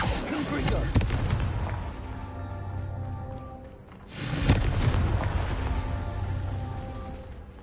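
Confringo spell blasts in Hogwarts Legacy, two heavy booming explosions a few seconds apart, each with a sharp crack and long rumbling decay, loud and close with no talk over them.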